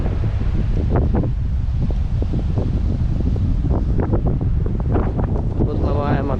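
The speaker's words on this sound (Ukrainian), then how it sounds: "О, які хвилі." Rough Baltic Sea surf and strong wind on a beach at Międzyzdroje, Poland, with a steady roar of waves and wind buffeting the microphone throughout, and a faint voice briefly audible near the end.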